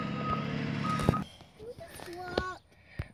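A vehicle backing up in the Hello Neighbor video game sounds a brief run of electronic reversing beeps. Voices speak over and after the beeps.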